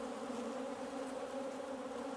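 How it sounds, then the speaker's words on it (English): Honey bees swarm around an open production hive during an inspection, a steady close droning buzz with no pause and no voices. "pollen, and food, and a bunch of mean bees"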